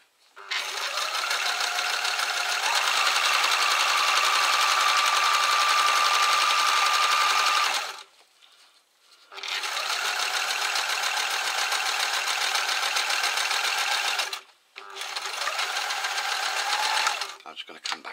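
Sewing machine stitching two layers of fabric for a shelter pouch, running steadily in three long bursts separated by short pauses, close and fairly loud.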